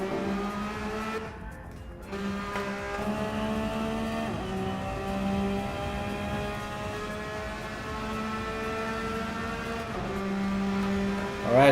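Race cars lap a track in Gran Turismo 7 during a practice lobby, engines droning and rising through the gears in overlapping whines, one tire squeal breaking in, with a fresh surge of revs at the end.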